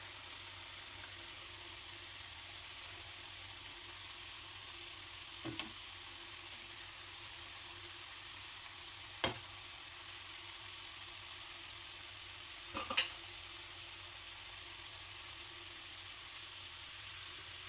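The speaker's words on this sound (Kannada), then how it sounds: "ಇದನ್ನು ನಾನು ಇವಾಗ ಡಬಲ್ ಸೈಡು ಫ್ರೈ ಮಾಡ್ಕೊಳ್ತಿದ್ದೀನಿ." Spicy potato fries frying in a pan, both sides being cooked, give a steady, soft, even sizzle throughout, with a few faint clicks and taps from stirring.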